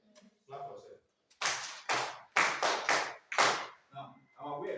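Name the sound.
class clapping for themselves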